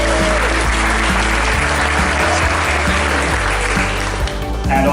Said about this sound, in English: just a round of applause for the three of those ladies